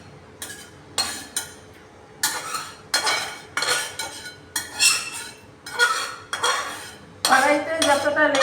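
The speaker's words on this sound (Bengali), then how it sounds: "কড়াইতে যতটা লেগে আছে ওগুলো মোটামুটি টেনে বার করে নিচ্ছি।" A metal spoon repeatedly scrapes and clanks against a wok, clearing out the last of a potato and eggplant mustard curry in a series of close, distinct strokes with brief pauses between them.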